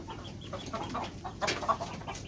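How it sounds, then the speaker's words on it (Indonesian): Bangkok-breed chickens cluck in a series of short, close calls over a low background, with no talking. "Ini ayam Bangkok, jenis ayam Bangkok."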